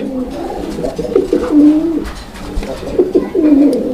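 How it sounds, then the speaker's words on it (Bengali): A pigeon coos repeatedly in low, throaty, rolling calls, close and fairly loud, with a few pauses between phrases and light background noise. "দেখেন কবুতর ডাক দেখছেন, একদম ভাইরাল ডাকের কবুতর"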